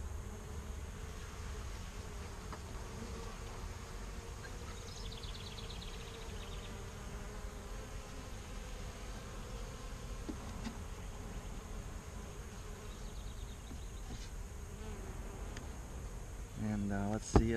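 Honeybees in a package hive buzz steadily in a continuous, fairly close hum with no breaks. A voice talks over the buzzing, and a brief clatter comes at the very end.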